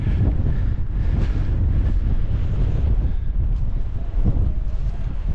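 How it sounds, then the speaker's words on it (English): Strong wind at a tent wildcamp in a mountain storm: loud, continuous gusting roar and buffeting that fills the microphone, with no talk. "The wind's not ridiculous,"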